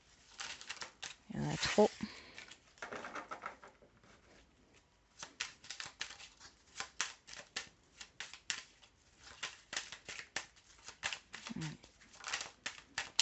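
Tarot cards shuffled and drawn for a reading, a run of soft papery riffles and quick snapping flicks, close and fairly quiet, with a voice speaking briefly over the handling.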